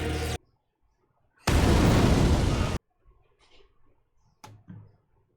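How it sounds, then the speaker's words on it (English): A video game explosion roars out as one loud, broad burst lasting over a second, with a shorter sharp blast before it and scattered softer pops and thuds afterward. "I still hear explosions."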